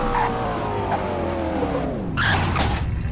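A supercar in the Roblox game Greenville brakes hard from about 217 mph. The engine note sweeps steadily downward, then a loud tire squeal and skid takes over near the end, with no talking.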